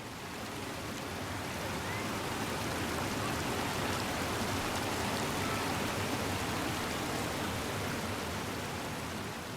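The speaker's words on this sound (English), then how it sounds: "The Akiak River drops about 5 feet, carving through limestone before continuing its journey towards Lake Huron." The Ocqueoc River falls about five feet over limestone, a steady broadband rush of water that stays constant and moderately loud throughout, with no voices.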